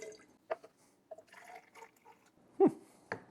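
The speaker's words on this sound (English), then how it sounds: "That doesn't pour very well. It's a glass, not a pitcher, I guess." A cocktail is poured from a glass rather than a pitcher, giving a few short, quiet splashes and drips of liquid separated by pauses, close by.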